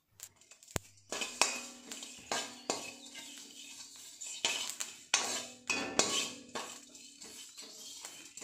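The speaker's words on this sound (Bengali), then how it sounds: "এখানে বিনা তেলেই পাঁচফোড়নটাকে ভাজবো।" Dry panch phoron spices toss and rattle in a metal pan without oil, with scraping and clinking spatula strokes at an irregular rhythm, fairly quiet and close, with no talk.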